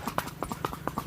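Close, regular clip-clop of a Sindhi mare's hooves at a walk, quiet and steady over a brief stretch.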